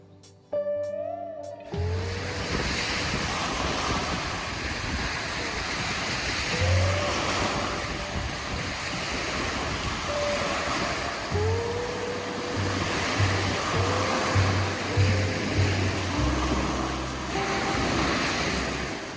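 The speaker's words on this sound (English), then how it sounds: "I think I'm getting the waves." Waves wash continuously onto a shore in a steady, broad roar, heard close, with occasional gusty microphone rumble.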